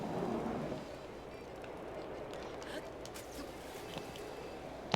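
Rain in the video game Breath of the Wild falls as a soft, continuous hiss, faint and steady, with low rumbling beneath it.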